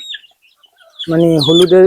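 Native free-range chickens cluck loudly and close by in a dense burst after a quiet start.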